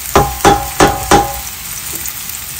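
Chopped onion and green chilies dropped into hot oil, with four loud, evenly spaced stirring scrapes over a low sizzle that fades out.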